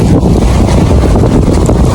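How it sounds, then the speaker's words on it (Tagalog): Strong wind buffets the microphone outdoors near Luneta Park and The Manila Hotel in Manila ahead of rain, a continuous loud low rumble with steady roaring gusts and no speech. "Lakas ng hangin."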